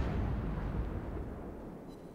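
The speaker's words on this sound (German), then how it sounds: "Und die Des Moines schießt halt so verdammt schnell. Alle 5 Sekunden kommen da die Schüsse halt raus." Heavy naval gunfire from the Des Moines cruiser in World of Warships, a deep booming blast that rumbles and slowly fades, with no talking.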